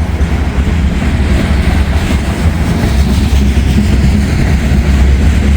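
Loaded coal train rolling past close by with a BPU SD70ACE pusher locomotive, a steady loud rumble and low engine drone with rhythmic clickety-clack of wagon wheels throughout.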